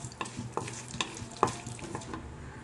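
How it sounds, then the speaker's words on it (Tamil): Urad dal and chana dal frying in a spoonful of oil in a kadai, a soft steady sizzle with a few sharp clicks and scrapes of stirring, close and fairly quiet. "அதில் உளுத்தம் பருப்பு, கடலைப்பருப்பு இது ரெண்டையும் போட்டு நம்ம வதக்க போகிறோம்."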